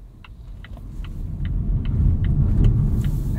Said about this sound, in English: do another acceleration test in pure mode and show you guys what that's like at full throttle here